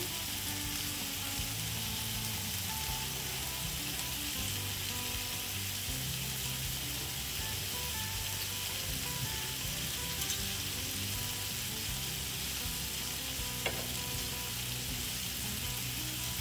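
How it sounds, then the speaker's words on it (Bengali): Skewered kebabs sizzle steadily on a grill as they are turned, a constant close crackle with a brief clink partway through and no voices. "এবার আমি কাবাবগুলোকে একটু ফ্লিপ করে দিচ্ছি।"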